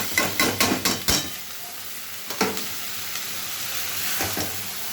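Boiled banana flower hits hot oil in a pan and sizzles, with a quick run of sharp spatula scrapes and stirring knocks early on, then a steady frying hiss underneath.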